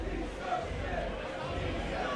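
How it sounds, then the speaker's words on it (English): A wrestling arena crowd jeers at Stan with a dense, steady roar of voices over a brief stretch, with a voice talking over it. "Oh yeah, the crowd's giving it to him."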